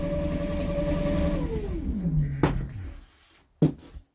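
A spin bike driving a generator gives a steady, close mechanical hum that slides downward in pitch as it winds down, followed by a couple of sharp clunks and quieter mechanical noise.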